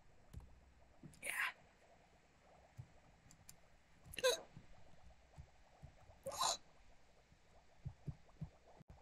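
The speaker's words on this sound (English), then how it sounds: "I sometimes have hiccups that aren't normal hiccups." Three short hiccups spaced a few seconds apart, soft and close, over a quiet background with faint breathy noise.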